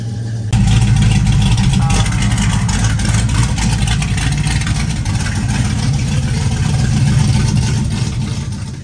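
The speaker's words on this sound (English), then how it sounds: "installed exhaust cutouts for that raw rumble engine sound we all love" A Chevelle engine fires up and rumbles loudly through open exhaust cutouts, settling into a deep, lumpy idle with slight rises in revs, heard close throughout.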